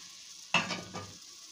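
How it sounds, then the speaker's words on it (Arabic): Boiling water poured into a cooking pot for chicken, a short splashing rush lasting under a second, close and fairly loud, then fading quickly. "احطهم دلوقتي الميه المغليه اهي"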